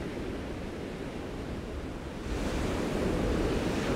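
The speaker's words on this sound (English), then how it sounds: "the wind is coming in towards us, but I think it's coming from behind me as I'm walking along the beach" Wind buffets the microphone over a steady wash of surf on a beach in a gusty 13 mph breeze, a constant close roar that grows louder partway through.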